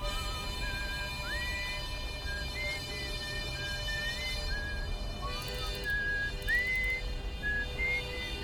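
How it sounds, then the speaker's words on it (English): Eerie whistling tones drift from a moon in the Outer Wilds video game, a series of sliding, rising pitches that repeat and wander over a steady humming ambient drone, moderately loud with no talking. "I thought the whistling comes from Timberhearth's moon"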